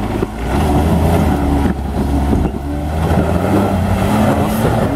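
A Troller off-road vehicle revs hard while climbing a step on a trail, its engine roaring loud and close in a steady, throaty drone that rises and falls slightly throughout.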